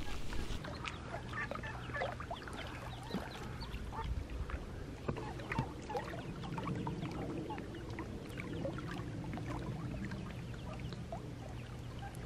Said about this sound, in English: we have some baby duck action